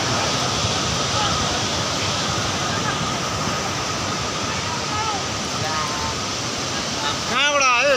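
Phakphuk river in sudden flood, a continuous rushing torrent roaring steadily, with a voice calling out briefly near the end.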